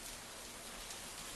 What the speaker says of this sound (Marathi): पाऊस किती भयंकर कोसळतोय त्याचा अंदाज येईल